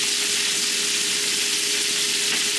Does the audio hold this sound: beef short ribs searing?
yes